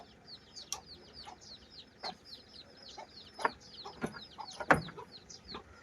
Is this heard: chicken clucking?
yes